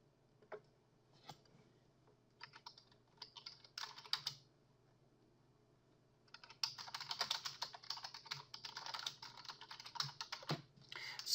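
Keys on a computer keyboard clatter in short bursts, typing text into a WordPress popup editor: a few scattered taps first, then a denser, steady run of fast keystrokes, close and fairly quiet with no talking.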